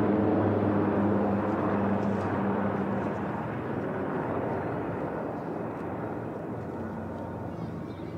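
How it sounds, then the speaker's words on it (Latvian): A steady, distant rotor drone from British Wildcat AH-1 reconnaissance helicopters rumbles and slowly fades, a low broadband roar with no distinct voices. "Skaņa jau ir un tuvojās Britu Wildcat AH-1 helikopteri, kas ir izlūkošanas helikopteri."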